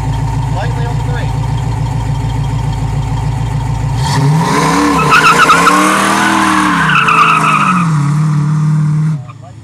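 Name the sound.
1966 Ford Mustang tire burnout with screeching tires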